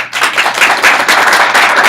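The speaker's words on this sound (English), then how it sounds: "Give her a round of applause" Sustained audience applause fills the room after a panelist is introduced at an immigration reform panel discussion, a dense, steady clatter of many hands clapping at close range with no voices over it.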